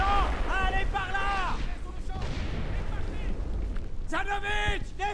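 A missile streaks past and explodes in the World War II shooter game Brothers in Arms: Hell's Highway, a rushing, rumbling blast that swells between stretches of talking voices.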